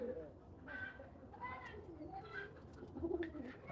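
Pigeons coo softly in a loft, including a newly added black and blue pair, with repeated low burbling calls scattered through the clip and faint chirps above a steady background hum.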